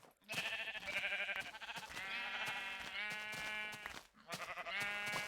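Sheep in Minecraft bleat repeatedly in a loud, wavering, close series of calls with only brief pauses between them, and no talking over the top.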